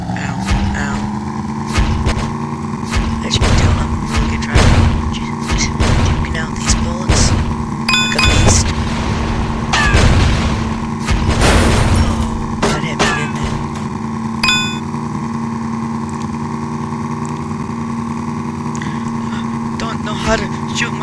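Rocket launcher blasts in the vehicle combat game Burnin Rubber 5 sound as repeated sharp bangs and clangs over a constant droning engine hum, bunched in bursts through the middle, while a player talks excitedly throughout.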